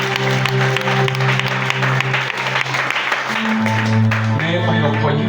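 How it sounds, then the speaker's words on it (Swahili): A church congregation in Geita claps for Jesus during a prayer service, a dense, sustained round of applause mixed with sustained keyboard tones and a voice speaking over it. "Pigia Yesu makofi."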